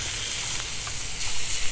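Chuck eye steak sizzles hard on a 200,000 BTU high pressure low profile burner, a steady loud frying hiss filling the whole stretch with no voices.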